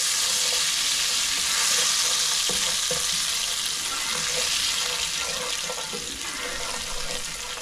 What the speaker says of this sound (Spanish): voy a comenzar a mezclar ya lo que es el cilantro aquí en el aceite